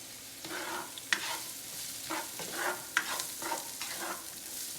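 Three cloves of minced garlic cooking over medium heat in a pan for salmon teriyaki pineapple bowls, a continuous close sizzle with periodic stirring scrapes and light utensil clicks, no one speaking.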